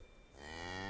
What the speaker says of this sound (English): Martha mooed her thanks and galloped on.